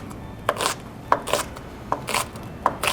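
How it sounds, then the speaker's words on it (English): A knife roughly chopping green onions on a cutting board, about six crisp, slightly irregular chops close up, with no voices. "And again, I'm giving those a rough chop too."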